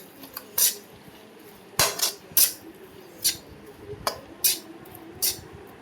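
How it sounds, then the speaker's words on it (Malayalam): A spoon clanks against a pot while salted Kerala-style chicken curry is stirred. Sharp metallic knocks and scrapes come in uneven bursts over a quiet background. "ഇനി അത് നന്നായിട്ട് ഇളക്കി കൊടുക്കാം."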